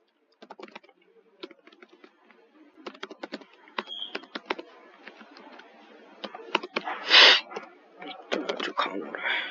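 Typing code on a computer keyboard: irregular bursts of crisp, close keystroke clicks with short pauses between runs, joined by a breathy noise partway through.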